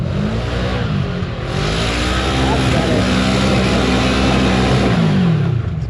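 A supercharged side-by-side UTV engine revs hard climbing an icy winter hill, a loud, sustained droning roar with rising and falling pitch, close up with voices talking over it.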